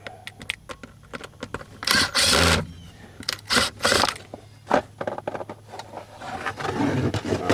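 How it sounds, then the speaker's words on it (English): Plastic cup holder being pried and pulled out of the console of a 1993 Ford F150, a run of close scraping, creaking and clattering bursts with brief pauses between them. "first I'm gonna take this here cup holder out. Strip it out a little bit."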